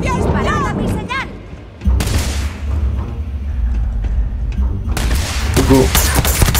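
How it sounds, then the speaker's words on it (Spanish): Gunfire erupts in a firefight in the video game Starfield. Sharp shots and booming blasts come in bursts, with a lull in the middle, and voices shout over the shooting. "¡Fuego de contención! ¡Disparad a mi señal!"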